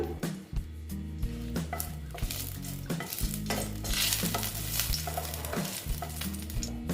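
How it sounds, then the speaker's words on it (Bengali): Dried red chillies fry in a little oil for a sour mourala fish curry with pumpkin and eggplant. A steady, bright sizzle crackles throughout over a low droning tonal background, with occasional stirring knocks. "দেখো দুটো শুকনো লঙ্কা দিয়ে দিলাম"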